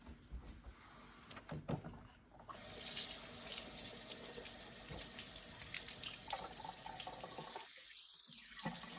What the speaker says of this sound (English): I'm going to try to rinse these off because I want to use these beaters again